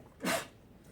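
A single sharp sneeze bursts out mid-clip, short and fairly close, with quiet room tone before and after.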